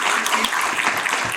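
A brief burst of audience applause after a guest lecture on health, dense and fairly loud clapping filling the whole short moment.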